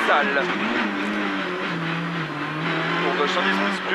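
Peugeot 207 rally car heard from onboard on the Col de Turini stage, its engine droning loudly and steadily with rising and falling pitch through the corners, while a voice talks over it.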